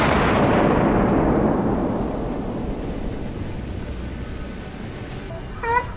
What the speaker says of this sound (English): A series of shots rang out,